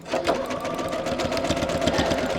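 Sewing machine running a 3-step zigzag stitch on mesh fabric for a water sling, a close, steady mechanical chatter with a fast repeating needle rhythm throughout.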